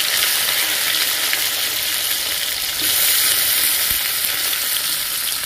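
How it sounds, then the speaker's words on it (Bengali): Chopped tomato and capsicum frying in hot oil with tempering spices in a pan, a loud, dense, unbroken sizzle heard close up with no talking. "দিয়ে এটাকে খুব ভালো করে ভেজে নেব"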